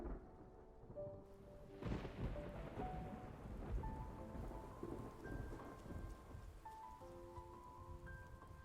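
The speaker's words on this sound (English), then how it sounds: "It's raining!" Heavy, steady rain pours down in a thunderstorm, with a loud rumble of thunder rolling in near the start and continuing under the dense hiss of rainfall.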